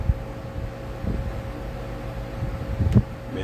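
An electric fan runs indoors in a house room, a steady low hum and airy whoosh, with a few soft knocks and bumps near the end and no speech.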